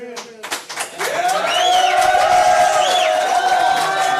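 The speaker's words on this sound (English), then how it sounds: "And the crowd goes wild." A crowd at a city council meeting in Hamtramck breaks into loud clapping and cheering after a resolution vote, with whistles and shouts rising over sustained applause following a brief burst of talk.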